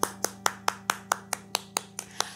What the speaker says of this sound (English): I'll give yourself a big clap.